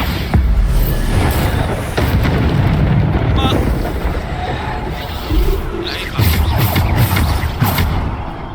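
Bombarda spell explosions in the video game Hogwarts Legacy: heavy, booming blasts that recur several times in a row over dense, continuous battle noise.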